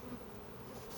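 Honey bees buzz as a steady, dense hum from inside an opened, crowded hive during a checkerboarding inspection, heard up close and continuous without any talking.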